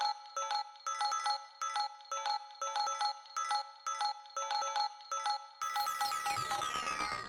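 A looping synth melody from a Euclidean sequencer playing 11 events over 19 steps, short bell-like notes in a steady syncopated pattern, ending in a bright shimmering wash.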